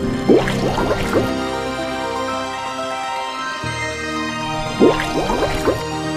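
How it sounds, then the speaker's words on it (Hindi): Cartoon water sounds as a water god dives into a river in an animated Hindi moral story, with two bursts of splashing drips and gurgling separated by a calmer stretch, fairly loud and with no voices. "यह कहकर वरुण देव ने पानी में डुबकी लगाई।"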